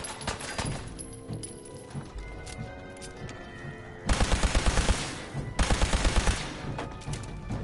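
Rapid gunfire in the video game Fallout 4, dense repeated bursts of shots over busy game sound, with two loud sustained volleys in the second half.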